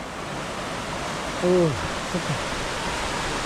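Water swirls and rushes steadily down a natural chute below a waterfall on the Mrzli potok stream, a constant broad roar filling the scene, while a voice briefly speaks over it partway through.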